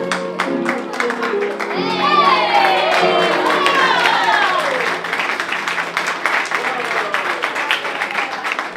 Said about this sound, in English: these young Jewish boys complete and are applauded for a very entertaining performance